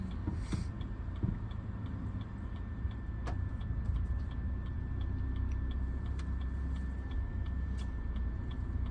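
A car's turn indicator ticks in an even, steady rhythm inside the cabin during a driving lesson, with the low hum of the engine and road noise underneath.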